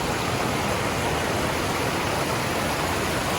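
A stream that must be crossed on the Appalachian Trail produces a steady, loud broadband rush of flowing water that fills the whole stretch without any break.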